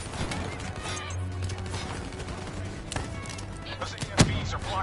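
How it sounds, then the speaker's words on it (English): A grenade explosion and gunfire in the video game GTA 5 sound under a dense, noisy battle mix, with a single sharp bang standing out near the end and scattered fainter shots and crashes before it. "Grenade"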